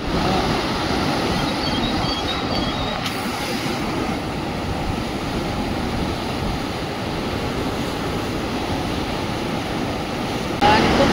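A continuous heavy rushing roar of a rain-swollen waterfall, heard from a bridge, fills the whole clip, broad and steady without pause.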